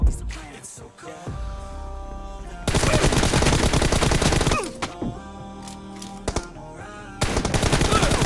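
Automatic gunfire in the PUBG mobile game, long loud sustained bursts of rapid shots broken by short pauses, close and dominant over game music and effects.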